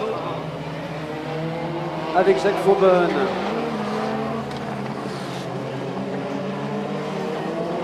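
Peugeot 205 T16 Evolution 1 rally car engine droning steadily throughout, with a louder revving burst near the middle, heard under an excited commentator's voice.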